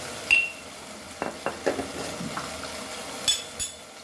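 A spoon stirring Xacuti masala into Goan crab curry in a pan, a few scattered scrapes and light clinks against the metal over a faint sizzle, with near quiet between strokes.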